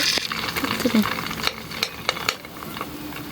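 Egg and bread frying on a hot tawa for an egg sandwich, a steady close sizzle broken by scraping spatula clicks and taps against the pan.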